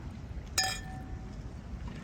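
Glasses clink once in a quick toast over dinner at Sherman Island, a single bright ring that fades over a soft, steady background hum.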